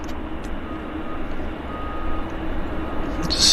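Delta SkyWest airplane taxiing at Vancouver airport, heard as a steady, low, broadband engine rumble that swells slightly near the end, with a brief high chirp at the close.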